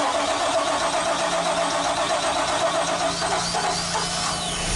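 A boat engine fires up after the fuel is primed, with the hatch open: a steady, loud mechanical roar with a ticking mid-range texture that holds evenly throughout, close by and with no talk over it.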